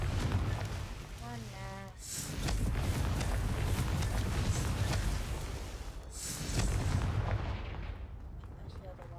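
The Confringo spell goes off as a fiery blast in a video game, giving two loud, roaring bursts a few seconds apart with a long rumbling roll between them, while a voice speaks briefly at the start.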